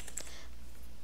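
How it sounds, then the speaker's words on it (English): Quiet keys tapped on a computer keyboard, a short soft burst of a few clicks near the start and then near silence. "press enter on your keyboard"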